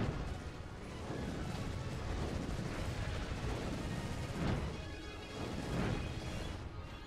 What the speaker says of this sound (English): They're shooting machine guns at me.